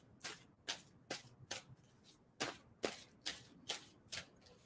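Tarot cards being shuffled by hand in a series of about eight crisp riffling bursts at a steady rhythm, close and clear, with quiet pauses between each.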